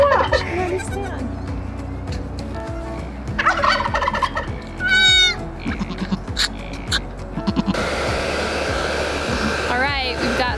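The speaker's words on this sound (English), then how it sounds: "I'm just warming them up here with the dryer set on warm." Hair dryer on its warm setting blowing over newborn miniature goat kids, a steady whooshing roar under bleating kids and a person talking, the blower louder near the end.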